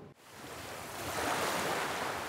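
Ocean waves wash onto a shore within a national park area, a steady broadband rush that swells and grows louder after a brief dip at the start, with no voices.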